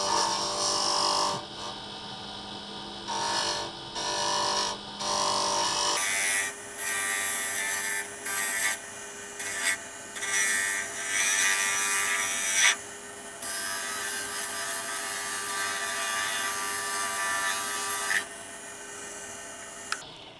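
Skew chisel cutting a slimline pen blank spinning on a wood lathe, a steady close scraping hiss with brief pauses as the tool lifts off and returns to the wood.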